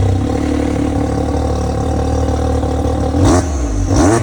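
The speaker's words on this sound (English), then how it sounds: "Me and Ben installed this beautiful GGB exhaust." A Can-Am off-road vehicle fitted with a GGB exhaust and bypass pipe rumbles loudly and close at a steady idle, then snaps through two sharp revs near the end.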